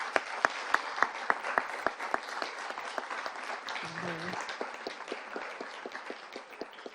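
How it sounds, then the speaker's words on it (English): An audience at a youth entrepreneurship challenge applauds its student presenters, a dense, sustained round of clapping with sharp individual claps near the front, and a brief low murmur partway through. "let's give one last big round of applause for all the student presenters"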